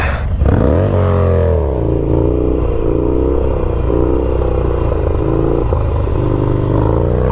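A Harley motorcycle rides off to warm up a new tire, its engine revving up loudly at the start, then settling into a steady, close rumble that stays strong throughout.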